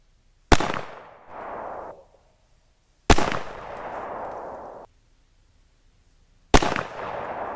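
Three sharp, loud gunshots from a Pietta Army Yank pepperbox pistol fired at a 10-yard range, each a hard crack followed by a fading rumble, spaced a few seconds apart, with no talking.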